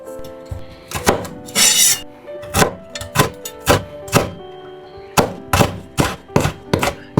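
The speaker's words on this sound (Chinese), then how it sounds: "大葱切成葱花" Scallions chopped with a knife on a cutting board, about a dozen crisp, loud thunks in irregular bursts, close up, with a brief rustle between strokes and no talking.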